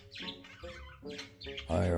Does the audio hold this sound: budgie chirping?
yes